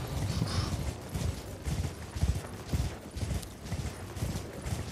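Horse hooves in Elden Ring, a steady rhythmic clip-clop of a galloping mount, close and moderately loud with some mechanical clatter underneath.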